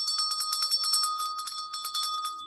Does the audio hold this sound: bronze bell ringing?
yes